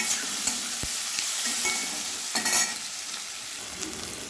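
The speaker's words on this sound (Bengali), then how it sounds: "এবার পেঁয়াজ টমেটো একসঙ্গে একটু ভেজে নেব।" Onions and tomatoes fry together in a pan for a chicken curry, giving a steady soft sizzle with occasional stirring scrapes and one sharp clink near the start; no one talks.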